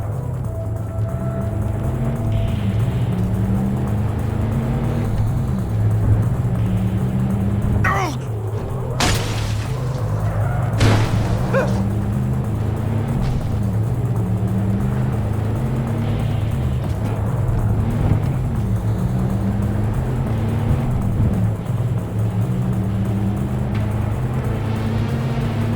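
Car driving in Cyberpunk 2077, a steady low engine drone running through the whole stretch with two sharp bangs near the middle, while voices talk over it.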